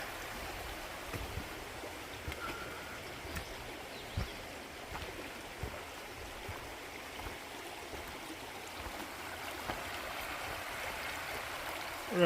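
A clear mountain stream flows on the Bartram Trail in Georgia, a soft steady gurgling wash with occasional light clicks and knocks, fairly faint, with no speech.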